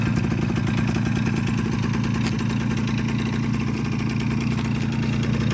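A Yamaha Basic Jog SA-24 two-stroke scooter idles close by, a steady low buzzing engine note holding even throughout with no talk.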